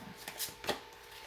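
A tarot card slides out of a deck with a quiet papery swish and a soft flick, very brief and close, alone without speech.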